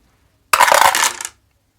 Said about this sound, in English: He needs to roll 2 dice, 8 or more,